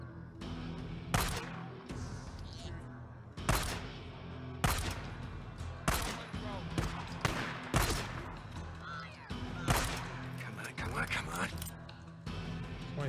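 Gunfire in the video game Days Gone: roughly ten sharp single shots spaced irregularly, loud and close, with someone talking in between.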